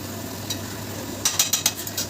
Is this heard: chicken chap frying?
yes